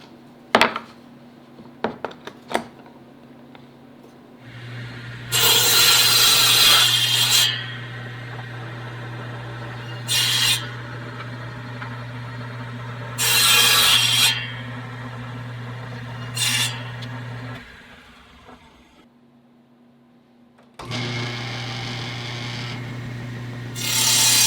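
Wood blocks for a beam compass being sawn, heard as several loud, rasping cutting bursts separated by pauses, with a steady low hum running beneath the middle stretch.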